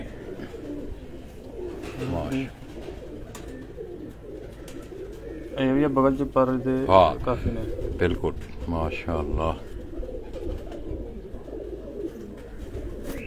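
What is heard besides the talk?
pigeons cooing, rare French pigeons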